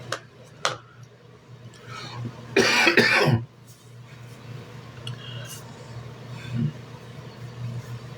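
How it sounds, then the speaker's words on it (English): A single harsh cough bursts out near the middle, close and loud, amid a quiet room with faint background noise and a few small clicks. "The cough I can't get rid of this morning."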